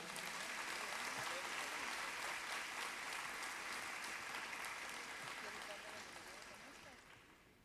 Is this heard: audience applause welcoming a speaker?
yes